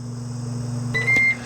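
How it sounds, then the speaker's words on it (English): A Ninja Woodfire Pro Connect XL grill emits a short electronic beep over a steady low mains hum, brief and fairly clear near the end. "so it did beep at me"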